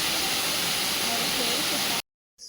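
Jeri Falls in Chikmagalur gives off a loud, steady rush of falling water heard up close. The roar breaks off suddenly into a brief silence before it returns.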